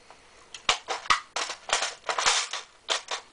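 Magazine being pushed and rattled into a G&G Combat Machine M4 airsoft rifle with a stiff magazine release, a close series of sharp plastic clicks, scrapes and knocks in irregular bursts, with no voice heard.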